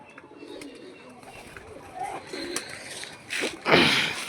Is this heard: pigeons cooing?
yes